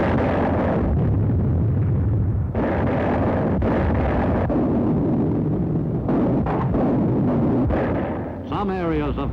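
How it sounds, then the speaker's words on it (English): Howitzer artillery in a WWII Pacific battle at Bloody Nose Ridge on Palau fires in heavy, booming blasts that continue without a break and sound close and loud, with narration over them. "The crescendo of the howitzers prefaced each new attack."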